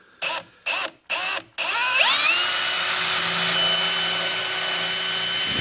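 A power drill with a 1/8 inch bit, used while installing a Dinan cold air intake on a 2005 BMW X5 E53 4.8is, gives three short whirring bursts, then a loud sustained whine as it spins up and keeps drilling close by.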